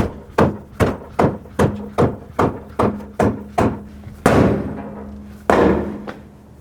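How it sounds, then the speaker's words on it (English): A rubber mallet strikes the back of the tire to free a stuck wheel on a 2005-2009 Chevy Equinox: about ten evenly spaced, close, dull thuds, followed by two heavier blows. "use a rubber mallet and tap it from the backside, but always hit the tire, not the rim"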